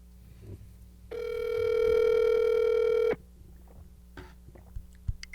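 Outgoing telephone call: a steady dial tone with layered harmonics holds for about two seconds, then cuts off, followed by quiet room noise with faint clicks.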